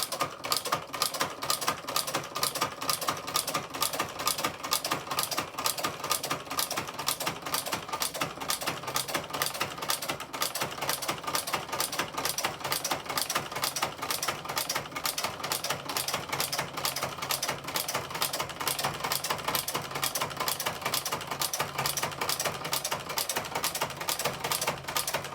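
A knitting machine's ribbing attachment is cranked by hand, making a loud, fast, steady mechanical clatter of regular clicks that runs unbroken throughout.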